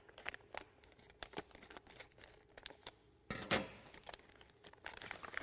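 Close, crisp crinkling and snipping of plastic packaging being cut open with scissors on an Epson SureColor T-series printer cartridge, in irregular bursts with a louder rustle midway.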